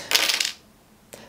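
Small metal charms tumble onto a surface during a card reading, a bright jingling clatter for about half a second, followed by one faint tap afterward.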